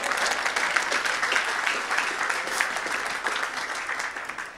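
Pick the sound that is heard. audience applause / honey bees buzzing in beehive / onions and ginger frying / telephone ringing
audience applause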